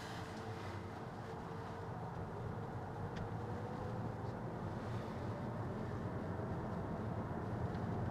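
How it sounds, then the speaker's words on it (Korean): Inside a new-generation Kia Niro hybrid cruising on electric power alone, a low steady road and tyre rumble with soft wind noise stays quiet and even, with no engine note and no talk. "미터도 끄고 오디오도 끈 상태고 그냥 이제 순수 전기로만 굴러가는 겁니다"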